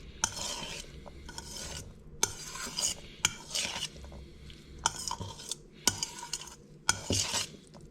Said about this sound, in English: So this is the second dollop of mayonnaise, and going to stir this up.